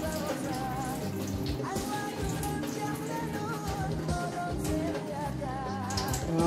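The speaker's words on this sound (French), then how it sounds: "On renverse l'eau." Cooked vermicelli drained by tipping its pot of water into a kitchen sink, a steady close splashing pour that runs unbroken throughout, with no talking.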